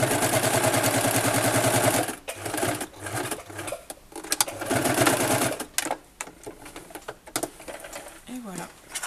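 A sewing machine stitches a fabric bag, first in a steady fast whirring run, then in short stop-and-start bursts with clicks, someone talking over it.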